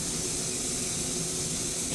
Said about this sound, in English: spray it a little bit farther away each time to kind of get it even it up on the metallic